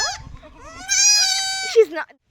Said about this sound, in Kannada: ಮೇಕೆ ಮರಿ, ಕುರಿ ಮರಿ ಅಲ್ಲ.